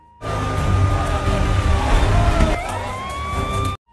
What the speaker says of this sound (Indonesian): Para petugas membunyikan suara sirine.